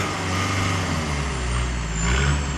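BMW diesel engine running after a restart, a loud steady low drone with a rising turbo whine near the end, heard close with no voices.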